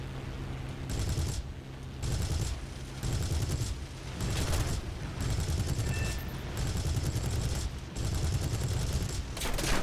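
Rapid bursts of heavy 20mm aircraft cannon fire in War Thunder, several long rattling volleys separated by brief gaps, loud and close.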